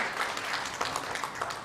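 A hall audience at a hospital stroke symposium applauds a speaker, brisk mixed clapping that holds steady for a moment with no talk on top.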